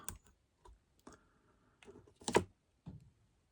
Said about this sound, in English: you get in there with your scissors and snip out the